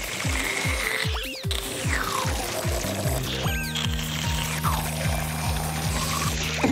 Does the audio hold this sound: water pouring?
yes